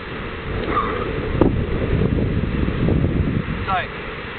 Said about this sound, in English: Now it is really windy and hopefully not getting the noise.